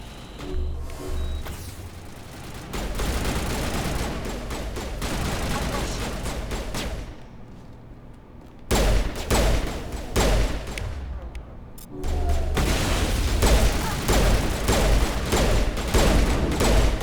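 Sustained bursts of gunfire from an enemy turret in the video game Mass Effect, loud and dense for long stretches with brief pauses between volleys, alone without talk.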